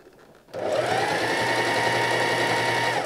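A sewing machine starts after a brief quiet moment and stitches steadily through several layers of fabric for an upcycled garment, making a loud, even motor whir with a rapid needle clatter.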